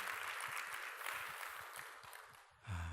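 A church congregation claps in a dense, steady wash of applause that carries on for a few seconds, fairly faint and roomy, then gives way to a voice at the end.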